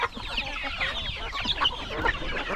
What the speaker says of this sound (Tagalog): Yung isa nating manok, yan, yung kulay puti,